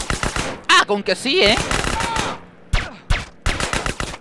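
Gunfire in the video game GTA San Andreas: sharp, rapid shots in quick bursts, some running together like automatic fire, play loudly while someone talks excitedly over them.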